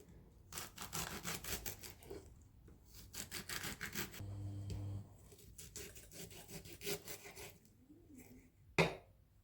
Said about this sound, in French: Je vais découper l'endive.